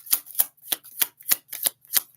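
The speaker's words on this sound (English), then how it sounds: "All right, one more shuffle." A deck of tarot cards is shuffled in seven quick, crisp riffles at an even pace, close and clear with no talking.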